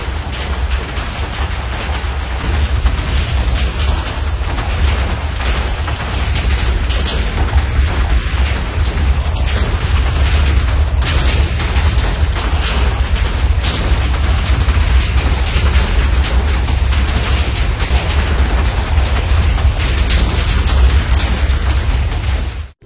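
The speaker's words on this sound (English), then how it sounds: "I guess this thing is dropping 12 TNT per second or something" Video game TNT blasts rain down from a flying bomber machine, a relentless dense barrage of overlapping booms and crackling bursts that roars loud and continuous, with no pauses throughout.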